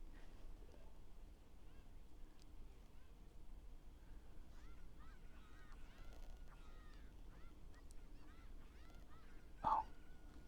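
Cuccos, the chickens of Kakariko Village in The Legend of Zelda: Ocarina of Time, give faint, repeated squawking clucks over a low background hum, and one sharper louder call sounds near the end.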